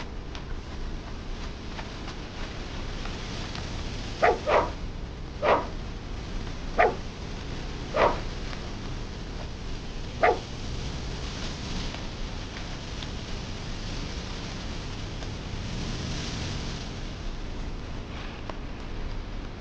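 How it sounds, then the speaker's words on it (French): A dog barks about half a dozen times in an uneven run, fairly near and clear over a steady background hiss, then falls quiet. "Tu as faim, mon chien Chounet?"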